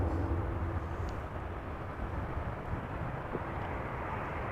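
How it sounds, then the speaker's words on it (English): A KLM Boeing 737-800 arrives at Amsterdam Schiphol from London Heathrow, heard as a steady, distant low jet rumble that holds evenly throughout with no voices. "Next up is a KLM 737-800 arriving from London Heathrow."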